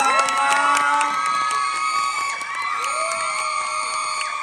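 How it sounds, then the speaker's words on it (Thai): An audience at a Thai concert cheers and whoops with high shouting voices over a continuous crowd roar that stays loud and close for a few seconds. "ขอเสียงปรบมือกันหน่อยครับ"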